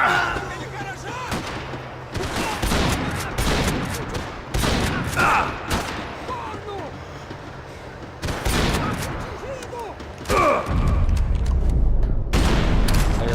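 Shotgun blasts and other gunfire from the shooter Max Payne 3, loud close reports arriving in irregular clusters with short pauses, amid chaotic game noise and some voices.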